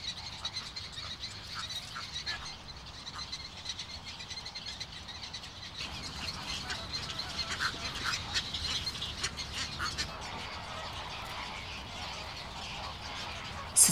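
Wetland birds and ducks call across the Oristano lagoons in Sardinia, with faint, overlapping chirps and quacks heard from a distance over a soft outdoor ambience that grows slightly busier midway.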